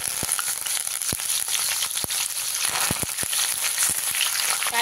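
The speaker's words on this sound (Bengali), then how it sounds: "কারি পাতাগুলোকেও খুব সুন্দর করে ভেজে নেব।" Curry leaves crackle as they fry in oil with peanuts and dry red chillies. A busy sizzle is broken by frequent sharp pops and spits, close and without speech.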